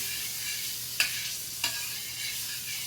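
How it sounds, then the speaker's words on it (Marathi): Butter sizzles on a hot griddle (tawa) as methi paratha is cooked, a steady close frying hiss broken by two short scraping clicks. "आपण हे भाजण्यासाठी लोणी घेतलेलं आहे ते तव्यावर सोडायचं"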